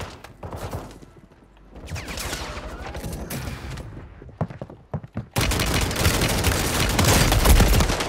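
Gunfire from a shotgun in the video game Call of Duty comes in dense, loud bursts, then the sound drops briefly into a single heavy, continuous roar of shots and game noise.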